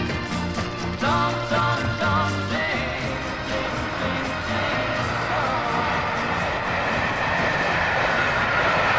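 An old goods train running on rails, a steady heavy rolling rumble with clanking and a sustained tonal hum over the wheels, loud and close throughout.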